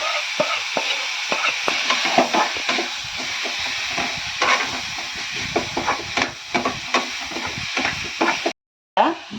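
A Maggi cutlet mixture sautés in a pan, a steady sizzle and hiss broken by frequent spatula scrapes and stirring clatter, close and fairly loud, with a brief drop to silence near the end.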